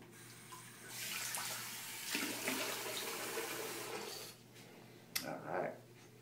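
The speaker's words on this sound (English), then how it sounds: "Let me rinse my face." Running water from a bathroom tap as a face is rinsed after shaving, a steady hiss with splashing that rises and falls, then stops, followed by a couple of brief sloshes.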